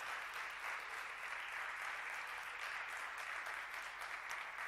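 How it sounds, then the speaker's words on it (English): An audience at the ArabNet Kuwait digital commerce event applauds the startup winners, an even, continuous patter of many hands, moderately quiet and slightly distant. "One round of applause for all of our winners."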